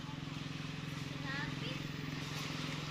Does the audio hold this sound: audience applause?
no